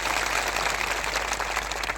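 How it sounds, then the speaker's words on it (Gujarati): Thousands gathered at an outdoor rally clap loudly together, a dense, continuous wash of applause with no talk over it. "સૌ માટે એકવાર જોરદાર આપણે તાળીઓ પાડી લઈએ."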